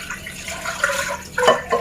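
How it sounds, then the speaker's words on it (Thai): Water splashes and trickles into a pot on the stove in short bursts, close by, with a louder gush near the end and no talking. "เทน้ำลงไปก่อนเลยค่ะ"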